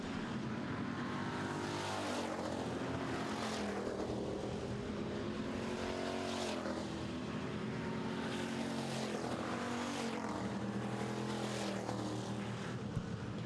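Pure stock race cars roar around an oval track in a heat race near the finish, the engines a steady loud drone with passing surges as the cars sweep by.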